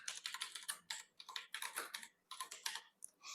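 Rapid, close typing on a computer keyboard, bursts of crisp key clicks separated by brief pauses, alone in a quiet room.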